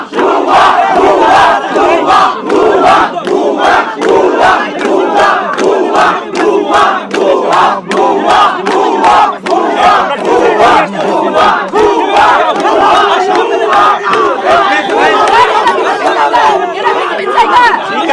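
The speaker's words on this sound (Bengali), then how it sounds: "ভুয়া স্লোগান দিচ্ছে।" Protest crowd chanting slogans in loud, rhythmic bursts, many voices shouting together in steady repeated cadence with continuous crowd chatter underneath, close and dense throughout.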